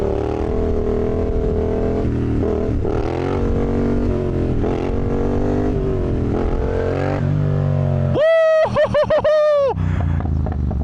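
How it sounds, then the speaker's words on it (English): Motorcycle engine droning loudly while riding through a wheelie in Brazil, a sustained close roar that gives way to a sharp high rev burst with rapid pitch swings near the end. "That was the best wheelie I've done in a while."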